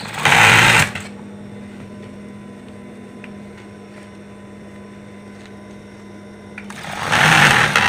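A sewing machine stitching bedcover fabric of King Koil silk, a steady close mechanical whir for several seconds, with louder rustling handling noise before it starts and after it stops.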